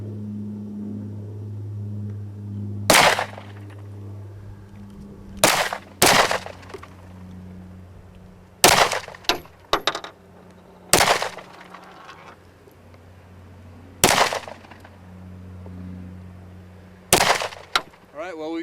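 Loud, sharp gunshots fired at a target at an outdoor range, about eight separate reports spaced a second or more apart, each ringing briefly, with a low steady hum beneath.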